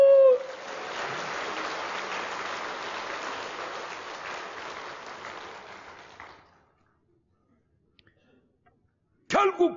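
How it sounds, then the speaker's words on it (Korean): A church congregation in a packed sanctuary at a Sunday worship service bursts into sustained, loud applause for about six seconds, then fades to near silence before a brief return of sound at the end. "또 한번 박수"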